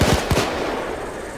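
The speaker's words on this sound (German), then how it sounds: "Alter, mit der Pistole schießt man die alle überm Haufen" Rapid pistol gunfire in the video game Payday 2, a short burst of several sharp shots at the start that fades into a reverberant tail, loud and close with no voices.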